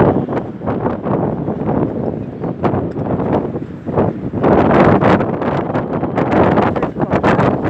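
Strong gale-force wind batters a jetty by the sea in December, roaring and buffeting the microphone in loud gusts that swell and surge throughout.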